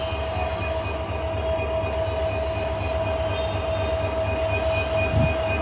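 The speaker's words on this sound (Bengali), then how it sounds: "এই যে ট্রেনটি চালু করা আছে প্রিয় বন্ধুরা এখন ট্রেনটি ছেড়ে দেওয়া হবে" A train engine idles at Natore railway station in Bangladesh, producing a steady, loud, droning hum with a constant tonal whine, heard alone with no talk.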